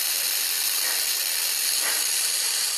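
A hot Yamaha enduro motorcycle engine sizzles with a steady, bright hiss, close and continuous with no pauses.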